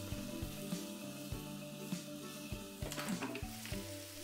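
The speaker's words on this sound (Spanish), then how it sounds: "A continuación incorporamos la cebolla, salamos ligeramente y sofreímos hasta que empiece a transparentar" Onion, lightly salted, sizzles and fries in a pan, giving a steady quiet crackle, with faint scraping and stirring knocks throughout.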